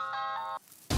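A mobile phone rings with a bright electronic melodic tone for about half a second, then stops. A sudden burst of noise follows.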